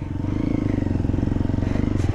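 An off-road motorcycle's engine runs steadily up close with a fast, pulsing low thrum and some clatter, continuous throughout without any talk over it.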